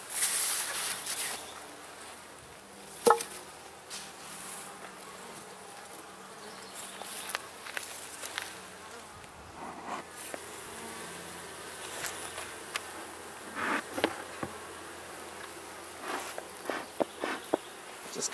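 Honey bees buzz around a very active hive during an inspection, a soft continuous hum with individual bees zipping close past now and then, plus faint handling sounds.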